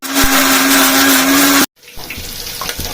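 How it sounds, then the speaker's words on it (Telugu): A mixer grinder whirs loudly, blending rice and onion paste with water, the steady motor note running for over a second and a half before cutting off abruptly, followed by quieter kitchen clatter. "కొన్ని వాటర్ వేసేసి మెత్తగా మిక్సీ పట్టేసుకోవడం"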